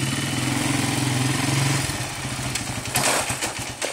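Suzuki LTZ400 quad bike engine running steadily at a near, loud level, then dipping and changing pitch around a gear change before picking up again with a rougher, uneven tone.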